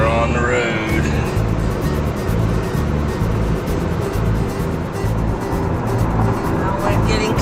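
A car driving along a road toward an airport, with a steady, loud rumble of engine and road noise throughout and people talking faintly over it.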